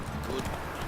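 Hooves of Roach, a horse in the video game The Witcher 3, clip-clop briefly at a gallop with a faint neigh, heard under game sound and a spoken voice.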